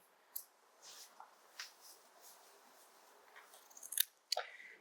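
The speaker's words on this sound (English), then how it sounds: "And we'll trim that on the end." Scissors trim craft material at a kids' craft session, giving quiet, scattered snips and small rustles with a couple of sharper clicks near the end.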